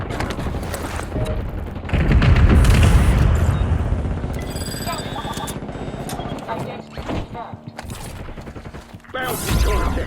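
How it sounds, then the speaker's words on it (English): Missile strike explosions in Warzone 2.0, a heavy booming blast that swells and rumbles for several seconds amid gunfire, mechanical clatter and game radio voices, loud and close. "Missile strike on a nearby target."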